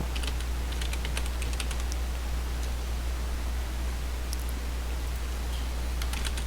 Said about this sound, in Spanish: Con ayuda del teclado alfanumérico.